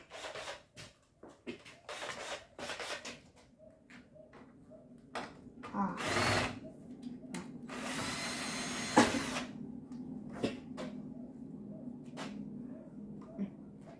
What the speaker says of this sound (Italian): Prendo il trapano un attimo.